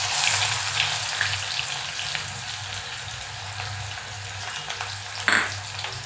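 Onion cooking in hot oil with cumin and mustard seeds, sizzling quietly and steadily with a few soft stirs and a sharp pan clink near the end.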